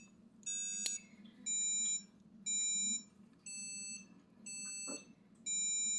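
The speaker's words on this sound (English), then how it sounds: "I have programmed the FGPA board to play the song Twinkle Twinkle Little Star" An FPGA board plays Twinkle Twinkle Little Star as bright electronic tones: six sustained buzzy notes in an even rhythm with short gaps between them, over faint background hum and a couple of small clicks.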